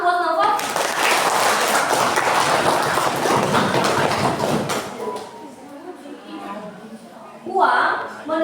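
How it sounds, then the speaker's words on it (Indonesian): A classroom audience breaks into dense, loud applause for about four seconds, after which it dies away and a voice starts speaking over the quieter room. "Oke, boleh kasih tepuk tangan buat Novel?"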